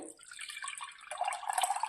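Milk poured from a packet into a heavy glass bowl made for oven use, a steady liquid trickle and splash that grows fuller and brighter after the first second, close and alone.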